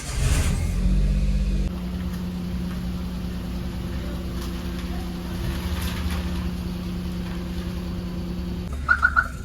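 A car engine runs steadily at close range with a low hum as the car is taken out in heavy rain; a few short beeps sound near the end.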